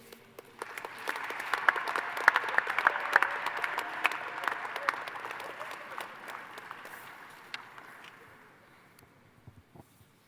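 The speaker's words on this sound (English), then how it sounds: "A final or another round of applause for our graduating postgraduates and residents." Sustained applause from a graduation ceremony crowd honoring postgraduate dental residents, steady dense clapping that swells early, holds, then gradually thins and fades out toward the end.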